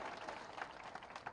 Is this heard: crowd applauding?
yes